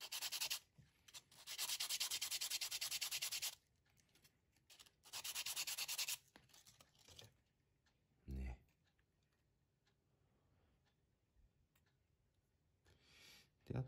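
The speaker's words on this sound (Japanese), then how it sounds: "これ つぎ出たところちょっとね、ヤスリでね削りますよ" Rough rasping strokes of a hand file shaping a handmade wooden crankbait lure, heard in long loud bursts at first, then quieter scraping with a few clicks, close by with no talking.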